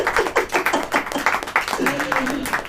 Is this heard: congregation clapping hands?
yes